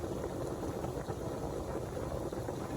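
A pot of pasta water at a steady rolling boil, a continuous bubbling and gurgling hiss heard close up with no talk over it.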